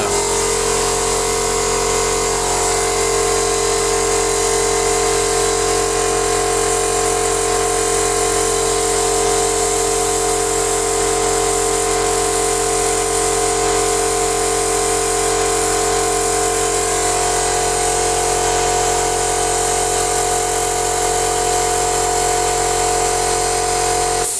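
A circular saw runs on battery power from a home solar power station, giving a steady whirring drone with a high electrical whine that holds level throughout, loud and close, with no pauses.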